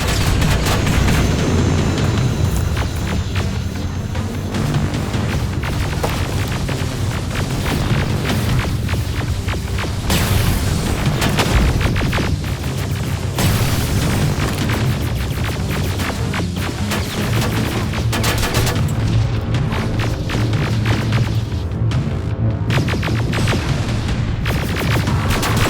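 Sustained gunfire and explosions in a war video game, dense and loud throughout, with booms and rapid shots layered over constant battle noise.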